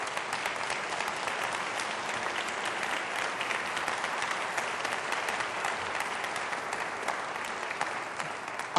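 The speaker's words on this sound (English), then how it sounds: "Give them a round of applause." An audience at a university state-of-the-university address claps in sustained, dense applause that stays even and loud from start to finish.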